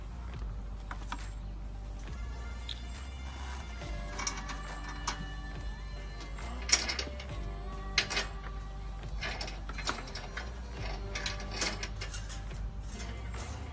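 A ratchet strap being tightened on a motorcycle carrier, with repeated mechanical ratcheting clicks and creaks over a steady low engine-like rumble, continuous and fairly close.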